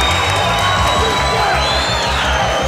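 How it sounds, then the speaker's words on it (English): Crowd at an MMA fight roars continuously in a standing ovation, with loud cheering and whoops over a thumping low rumble, filling the whole moment without a break. "Standing ovation from the crowd"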